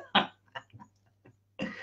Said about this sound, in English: my husband, who's sat coughing behind the screen when I'm trying to work